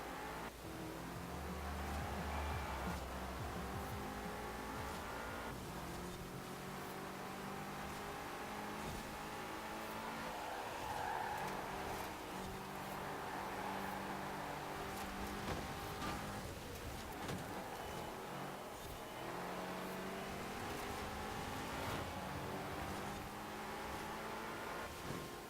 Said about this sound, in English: Driving around beside that V10 M5 now, and you just can hear that V10 wail so much better